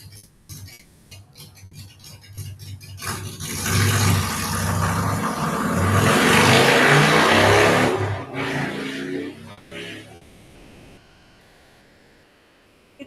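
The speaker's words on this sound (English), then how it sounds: "You hear the motorcycle? That's what I was talking about." A motorcycle engine accelerates from a stoplight, swelling to a loud roar as it passes, then fading away into quiet.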